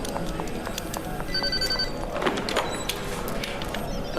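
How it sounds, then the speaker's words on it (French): A telephone rings in an interior scene of a French-dubbed telenovela, a repeating electronic ring tone at moderate level over background music and ambience, without speech during the ring. "Attends, c'est mon téléphone."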